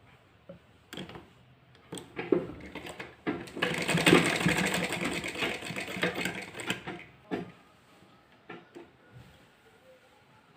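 A sewing machine stitching the hem of a designer kurti, running in short bursts and then a longer steady whirring run of several seconds, fairly close, with no talk over it.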